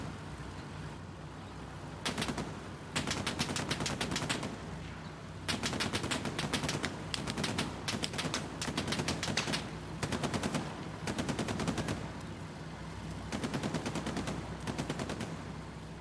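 Machine gun fire from a tank in the video game Hell Let Loose rattles in several long sustained bursts with short gaps between them, steady and moderately distant, without talking.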